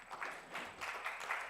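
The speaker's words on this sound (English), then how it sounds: "we can give them a round of applause as they come up" Faint scattered applause from a conference audience welcoming presenters to the front, a short quiet patter of hands in a large room.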